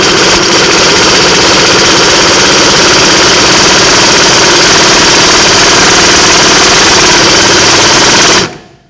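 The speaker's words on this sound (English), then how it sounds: "you can use something with light impact, like this air gun right here" Air impact gun hammering on a rear brake bolt of a 2006-2012 Ford Fusion, a loud continuous rapid rattling burst lasting about eight seconds, close up, then cutting off.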